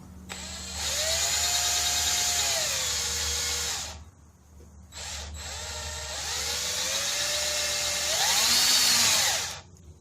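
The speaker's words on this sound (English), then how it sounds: "Try to drill a hole in the seal." A small drill whines at high pitch in two long bursts, revving up and down, separated by a short pause, drilling a hole in the case of a 1971 Honda CT70.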